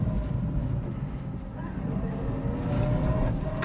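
Opel Corsa-e Rally, a 2022 electric rally car, driving on a race track, with a steady low rumble of tyres and road noise and a faint electric whine running throughout.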